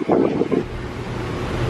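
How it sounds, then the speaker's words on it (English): Wind buffeting the microphone on an open boat ride along a river lined with banana plants, a steady low roar with brief muffled voices at the start. "It's getting a little windy."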